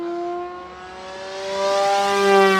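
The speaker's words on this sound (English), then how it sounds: "I think that's what we call an out of balance prop." A HobbyKing H-King Yak-11 RC warbird with a 1450 mm wingspan and an out-of-balance propeller makes a full-throttle high-speed pass. Its steady, loud tonal whine climbs in pitch as it nears. No one speaks.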